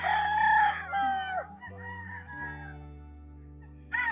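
Gamefowl roosters, sweater brood stags on a rainy, muddy farm, crow in long overlapping calls, one after another, near and loud at first and then trailing off, with a fresh crow breaking in at the very end.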